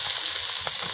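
Tomatoes frying in a pan, a steady dense sizzle with a faint stirring scrape, close and continuous.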